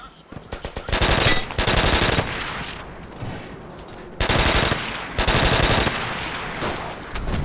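Rapid-fire automatic gunfire in Call of Duty: World at War, loud bursts of dense shots, a couple of long strings separated by brief pauses, close and dominant.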